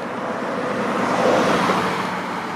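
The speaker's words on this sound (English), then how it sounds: "There's like some Hummers and heavy duty trucks going by here" Hummers and heavy-duty trucks rolling past outdoors, a broad continuous roar of engines and tires that swells slightly at the middle and stays steady, without speech.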